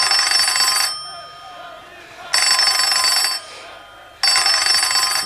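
An old-fashioned telephone bell rings loudly in two-second bursts, three rings separated by short pauses with faint murmuring voices between them, in a period office setting just after the war.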